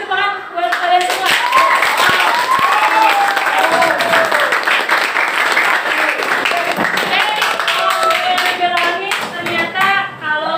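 Students clap in a classroom for a teacher's lesson, a lively burst of many hands with loud individual claps and voices mixed in throughout.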